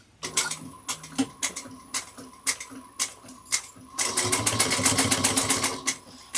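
A sewing machine back stitches a bucket bag, sounding as a run of quick ticking stitches that pauses and then speeds into a dense, continuous rattle, heard up close.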